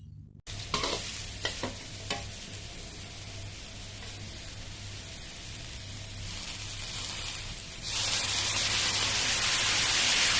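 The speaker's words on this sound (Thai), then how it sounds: "เราจะใช้น้ำเปล่าช่วยในการผัดค่ะ" Papaya being stir-fried in a pan with water added to help it cook, opening with a few sharp spatula clacks over a steady sizzle that swells into a louder, hissing rush near the end.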